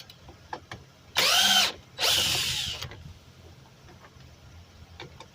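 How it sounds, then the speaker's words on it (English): A power tool spins out two 8 mm screws from a 2004–2008 Ford F-150 driver side door panel in two short, whining bursts close by, followed by quiet handling clicks. "Those are 8 millimeters. All right. Go ahead and take those two out."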